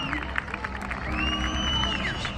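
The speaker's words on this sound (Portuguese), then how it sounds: "Quem gostou pode aplaudir" An airshow crowd at Itápolis claps and cheers after an aerobatic glider flight by a Grob G103A Twin II Acro. The crowd noise is distant and faint, with a rising whistle-like tone over it.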